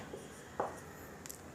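Pen or chalk strokes on a board as a chemical reaction is written out in a thermochemistry lesson: faint, brief scratchy marks, one slightly sharper, over a steady low room hiss.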